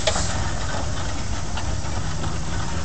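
A 50 horse Case steam traction engine built in 1960 chuffs and hisses steadily at an antique farm machinery show parade, a dense continuous roar of steam and mechanical rumble.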